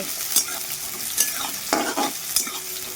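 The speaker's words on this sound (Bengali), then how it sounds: "ভালোভাবে নেড়ে চেড়ে পেঁয়াজটাকে বেরেস্তা করে নেব" Chopped medium onion frying in oil in a pan, stirred to crisp it for biryani: a steady sizzle broken by several sharp scraping stir strokes, close and clear, with no talk.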